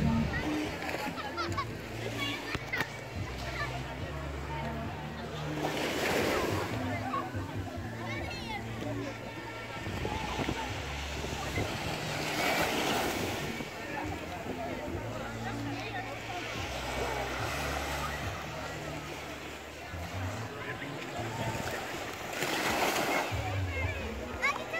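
Waves wash and splash at Puerto Seco Beach in Discovery Bay, Jamaica, a soft rolling surf with periodic swells, while children and adults talk nearby.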